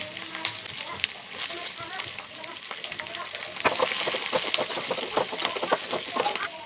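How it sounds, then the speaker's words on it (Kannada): Onions frying in oil with fenugreek seeds for Mysore bonda red chutney, a steady close sizzle with crackling pops and stirring scrapes that grow busier toward the end. "ಸೊ ಇದು ಫ್ರೈ ಆದಮೇಲೆ ಈರುಳ್ಳಿನ ಹಾಕ್ಕೊಂಡಿದ್ದೀನಿ"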